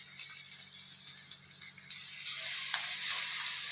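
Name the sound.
chicken kebab pieces frying in hot oil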